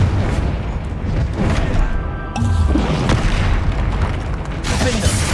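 A loud, booming Confringo explosive spell in Hogwarts Legacy, with heavy low-end rumble and crashing debris amid dense combat noise, with a speaking voice and other spell effects mixed in.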